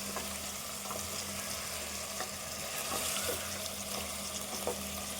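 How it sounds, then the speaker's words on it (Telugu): Goat trotter curry frying in hot oil, Telangana style, with a soft continuous sizzle and a few faint pops and stirring sounds throughout. "ఇది కూడా కొద్దిసేపు వేగాలి."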